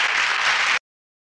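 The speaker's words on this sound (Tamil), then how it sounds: "மாணவர்கள் கைதட்டி ஆரவாரம்" Students applauding and cheering in a classroom, a dense burst of clapping that cuts off abruptly after under a second.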